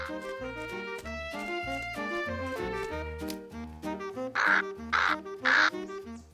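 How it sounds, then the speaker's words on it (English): A cartoon crow caws three times in quick, harsh bursts near the end, loud over bouncy music that plays throughout. "That crow has been eating our berries."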